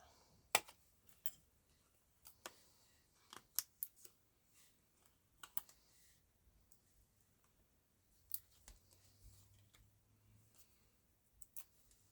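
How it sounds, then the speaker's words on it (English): Quiet, sharp scissor snips click at an uneven pace, close and isolated against near silence, with a faint low murmur partway through. "the glue scissors"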